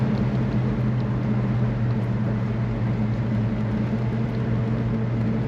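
A 1971 Pontiac LeMans Sport Convertible drives along a road, its engine giving a steady low hum with constant road and wind noise, close and even throughout with no talking.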